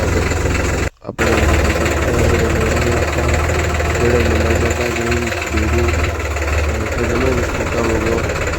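Tractor engine idling in a farm field, a steady low throbbing hum with a brief dropout near the start, running continuously while a voice talks over it.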